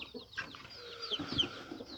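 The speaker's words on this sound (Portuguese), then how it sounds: "O galão já tá lá chamando as galinhas" A big rooster calling to hens among farmyard fowl, giving short clucking calls and squawks up close over a quiet yard, with faint other bird sounds behind.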